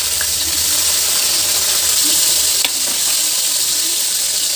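Sliced onion and one or two pieces of garlic fry loudly in hot oil, a close, steady sizzle and hiss with a brief stirring scrape partway through.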